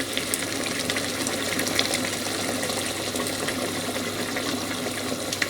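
Boiling water poured into a cooking mix, a continuous splashing pour with a low steady undertone and no voices.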